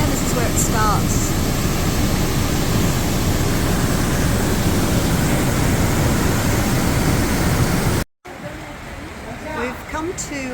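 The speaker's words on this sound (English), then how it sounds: "This is the top of the waterfall that we saw earlier." Waterfall at its top in misty, rainy Sri Lankan mountains, a loud steady broadband roar of rushing water filling the first eight seconds before a sudden cut to quieter ambience with faint voices.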